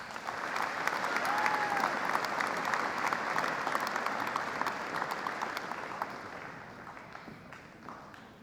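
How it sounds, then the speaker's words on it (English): A convention hall audience of future agricultural education teachers and FFA advisors applauds in a dense, sustained round of clapping that slowly tapers off. "Let's give them a round of applause."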